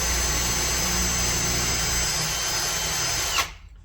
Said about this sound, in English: I'll go ahead and drill the access hole for the connector.